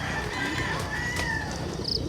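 Pigeons and other birds chirp and call faintly over a steady background, with a short higher whistle near the end.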